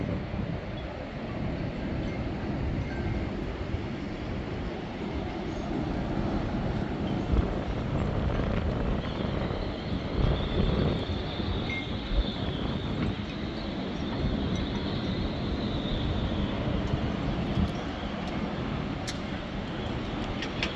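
Steady, strong wind of about 30 constant roars and rushes continuously with a broad rumbling noise, swelling slightly in gusts, with no voices, in Thomas Basin, Ketchikan, Alaska.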